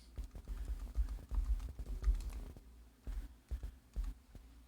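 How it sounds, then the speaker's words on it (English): Fingers tap on a computer keyboard, a quick irregular run of soft close clicks in short bursts with brief pauses between them. "hand type it in"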